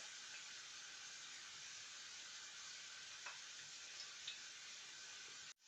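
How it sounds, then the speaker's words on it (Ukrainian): Zucchini patties sizzle steadily in a hot pan, a soft continuous hiss with a few tiny pops and a sharp clatter at the very end. "І викладаю я їх на розігріту сковорідку."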